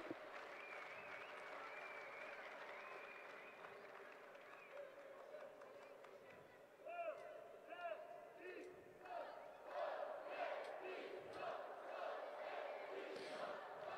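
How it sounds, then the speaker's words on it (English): A judo arena crowd at a Grand Prix event in Tashkent sings and cheers in a sustained roar, swelling louder toward the end, with a commentator talking over it. "as you can hear, that crowd is there singing for you."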